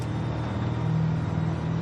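A deep, throaty Dodge Super Bee muscle car engine in Forza Horizon 5 idles and rumbles steadily at close range, loud and continuous with a low burbling tone.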